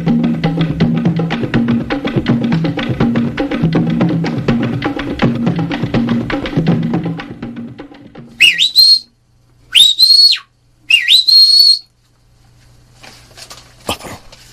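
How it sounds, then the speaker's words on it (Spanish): Sharp, rising whistles sound in a radio drama, three close, loud bursts followed by a faint later one, heard after a stretch of low rhythmic background noise stops. "Parecen silbidos."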